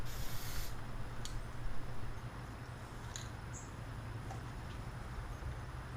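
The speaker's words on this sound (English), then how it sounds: "Spraying some very light misty coats back about 18 inches or so." Light misty coats of Mohawk Perfect Brown dye-based stain sprayed onto a wooden cabinet, a brief loud hiss of spray at the start followed by a few short spits and faint quiet background.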